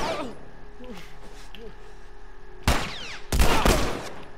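Bursts of gunfire from The Last of Us Remastered, a short loud volley followed after a pause by a longer, denser barrage, set against quiet game ambience with a faint voice early on.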